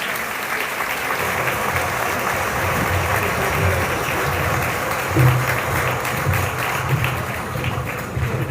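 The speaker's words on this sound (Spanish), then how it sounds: "Un aplauso para ellos, por favor." Sustained audience applause at a book fair opening ceremony, welcoming members of a concert marimba ensemble; steady dense clapping from a large crowd continuing throughout.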